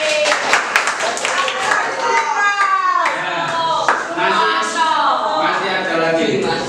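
An eighth-grade science class in an Indonesian middle school claps hands together, with sharp, rhythmic claps near the start and children's voices chanting and talking over the claps throughout.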